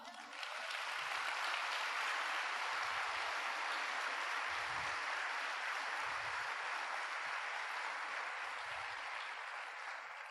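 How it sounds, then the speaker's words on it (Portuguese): A church congregation applauding during a sermon on the purpose of the church, a faint, even roar of many hands clapping that holds steady throughout, with low murmurs now and then. "Aplauda o Senhor."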